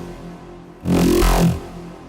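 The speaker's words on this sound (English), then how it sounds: "And that's a really interesting robotic growl." A synth run through two filters whose mix is swept by an LFO gives a loud robotic growl lasting under a second, rising out of a quiet, low hum and then dropping back.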